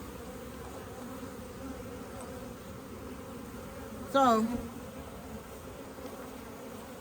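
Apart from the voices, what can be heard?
honey bees buzzing around an open hive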